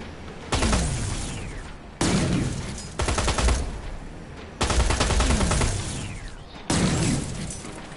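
Gunfire in the video game Terminator: Resistance rings out in about five loud, sharp-edged bursts of rapid shots with crackling, shattering tails, each cutting in abruptly and fading before the next, with no talk.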